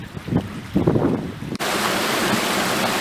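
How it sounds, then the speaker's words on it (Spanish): Waterfalls roar in the Gran Sierra Plegada, Nuevo León: after a few gusty, uneven moments, a dense, steady rush of falling water fills the air, loud and close, continuing unbroken. "por el sonido de las cascadas que hay ahí"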